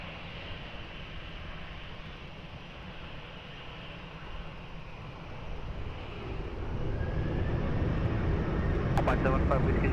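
A Ryanair airliner begins its takeoff roll on runway 20 at Lisbon Airport; the distant engine roar swells and grows louder toward the end, while radio voices talk over it.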